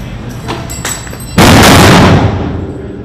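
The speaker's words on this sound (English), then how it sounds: "Somebody's got to prep another bang and actually get in the room." A breaching charge detonates during a Marine room-clearing drill on Camp Hansen, Japan: one loud, sharp blast with a broad, lingering rumble that decays slowly, preceded by scattered clicks and movement noise.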